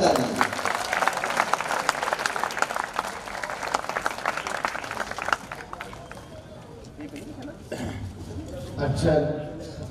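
Audience applause at a Hindi kavi sammelan poetry recital, a dense burst of clapping from a large crowd that fills the first half and then thins out, with a voice speaking over the tail.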